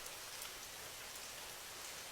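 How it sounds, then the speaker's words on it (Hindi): Heavy rain falling steadily, a dense even hiss of drops on surfaces with no pauses or voices, fairly quiet and uniform throughout. "बारिश तेज हो रही है"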